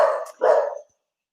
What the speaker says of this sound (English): That's my dog, excuse me.